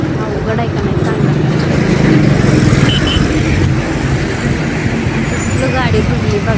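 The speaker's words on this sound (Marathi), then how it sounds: "एवढी मोठी गाडी बंद पडली होती त्यामुळे बघा ट्रॉफिक लई जाम झालं." Jammed road traffic with heavily loaded trucks and a broken-down large vehicle nearby, giving a loud, continuous rumble of engines and road noise, with people talking over it.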